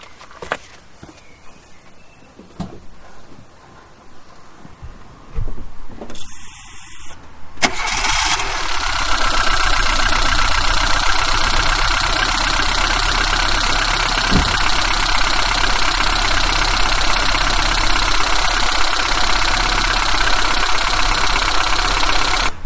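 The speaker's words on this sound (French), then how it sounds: "Donc la mienne, elle va tourner au ralenti, mais un bruit bizarre. Il manque un cylindre" A Renault Twingo 1 with the D7F engine idles roughly while missing one cylinder, a loud continuous uneven running with a faint knocking, following quieter clattering and the engine catching about seven seconds in.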